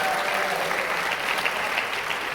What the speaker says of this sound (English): How about we give them a round of applause making it this far?